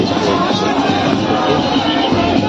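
Dense, steady crowd noise from a huge gathering at the Vivah Panchami festival in Janakpur, Nepal, a continuous loud hubbub of many voices with no single speaker standing out.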